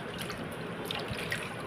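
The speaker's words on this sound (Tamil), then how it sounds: "தண்ணியில் நல்லா வந்து அலசி விடுங்க." Water sloshing steadily as hair-tonic ingredients are rinsed in a wide vessel, a continuous close splashing and dripping trickle with no talk.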